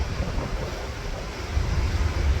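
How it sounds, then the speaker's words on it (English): Ocean surf churns and breaks at high tide on the Oregon coast at Devil's Churn near Yachats, a steady rumbling wash of waves mixed with gusting wind buffeting the microphone. "It has gotten breezy here, and the ocean spray can be quite chilly."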